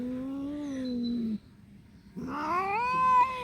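A cat outdoors on a walk gives two long, drawn-out yowling, growling cries with a short quiet gap between them, close and fairly loud, the second rising in pitch.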